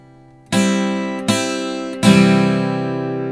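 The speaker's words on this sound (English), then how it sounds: "But then their upstrokes sound like this." Guitar strings scooped with pick upstrokes give three harsh, bright strums in slow succession, each chord ringing on loudly until the next.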